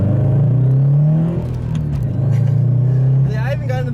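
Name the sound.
turbocharged Scion FR-S accelerating into boost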